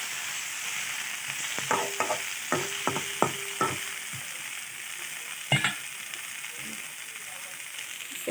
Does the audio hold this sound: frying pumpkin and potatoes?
yes